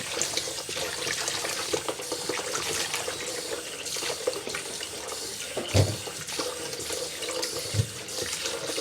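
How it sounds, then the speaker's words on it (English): Tap water runs steadily into a sink while white radish is washed, a close, continuous splashing hiss with a few louder splashes and thumps, and no talking. "turn up the water."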